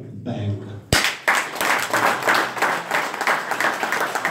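Audience applause at a 2017 Paris legislative campaign meeting, a short burst of talk or noise at first, then sustained clapping from a sizeable crowd filling the room at steady loudness.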